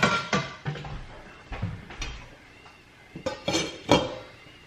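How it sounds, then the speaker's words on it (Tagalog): A plate is set down in a home kitchen while spring rolls are being made, with a few sharp ceramic clinks and knocks spaced out over several seconds, close by and fairly quiet, with no talking. "Lagyan ko lang siya ng plato."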